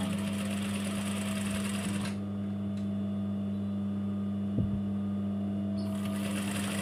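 A sewing machine with a standard presser foot stitches a fabric hem with a steady, loud mechanical whir, briefly pausing midway before running again.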